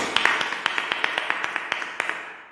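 Congregation at a Hindi Christian prayer service clapping loudly in welcome, a steady rhythmic beat of sharp claps in unison, close and energetic.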